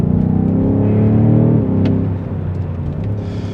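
BMW M5 Competition F90 sedan accelerating along short, winding mountain roads in the Vercors, a loud, close engine roar with strong low harmonics that eases off partway through and settles into a lower drone.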